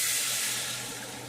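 Water poured steadily into a skillet for gravy alongside smothered pork chops, a continuous close splashing hiss that tapers slightly toward the end.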